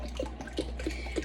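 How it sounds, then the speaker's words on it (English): Water is poured into a plastic bin to fill it about halfway, a continuous rushing splash with soft gurgling pulses, close and steady throughout. "I'm going to obviously fill this bin about halfway so we can see a good amount of water in here."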